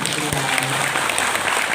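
Seated workshop audience of teachers applauding, a brief, loud and even wash of clapping heard up close with a faint voice beneath it.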